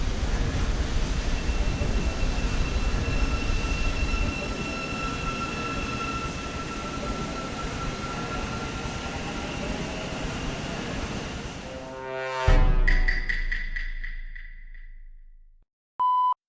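A new MRT train on the Putrajaya line in the Klang Valley, heard from inside as a steady loud running rumble that fades as it slows, followed by a rising tone sweep, a chime and a short electronic beep.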